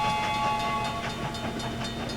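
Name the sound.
train in video game Lego City Undercover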